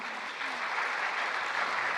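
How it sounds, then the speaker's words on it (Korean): Steady applause from an audience at a church farewell and report ceremony, a dense even wash of clapping hands sustained for two seconds at moderate distance. "박수 한번 부탁드립니다"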